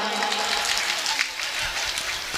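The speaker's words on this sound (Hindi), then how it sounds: "जोरदार तालियां बजाएंगे।" Dense applause from a crowd at a Bhagavat Katha religious gathering, steady and loud throughout the short stretch.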